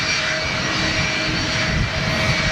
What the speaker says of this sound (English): I say little, but they're the Leap 1A engine. That's the Leap 1A engine.